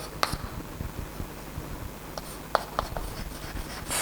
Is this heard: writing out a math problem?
yes